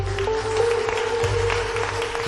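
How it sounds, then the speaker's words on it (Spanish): An audience in a hall applauds a speaker with steady, dense clapping throughout, moderately loud and even, with a sustained tonal hum running underneath. "Regalarle un aplauso muy fuerte a Alberto por ese gran trabajo."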